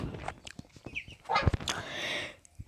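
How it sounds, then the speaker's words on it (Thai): Geese honk and ducks call on a rural farm, several short overlapping squawks and cackles nearby with a louder honking burst midway. "มาชวนเพื่อนๆดู เป็ด ดูห่าน ดูไก่ในบ้านนาของเรานะครับ"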